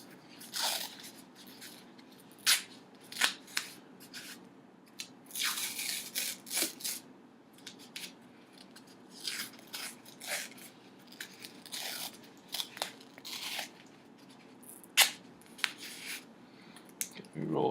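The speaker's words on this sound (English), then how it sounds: "We roll tape here." Athletic tape is pulled and wrapped around a wrist, giving irregular sharp tearing and crinkling bursts, close and fairly loud, spread across the stretch between quieter pauses.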